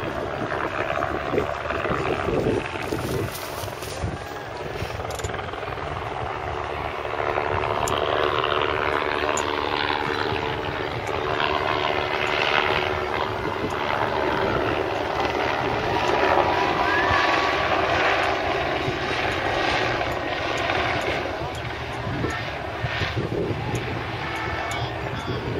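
A helicopter hovers over Tour de France riders on the Holme Moss climb, a steady loud rotor drone above a roadside crowd, constant throughout with faint voices underneath.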